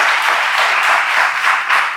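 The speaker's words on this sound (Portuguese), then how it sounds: "Dá mais uma salva de palmas para Jesus" A church congregation applauds together at worship in a dense, steady wash of clapping that holds at full strength for the whole stretch, close and loud, with no voices cutting through.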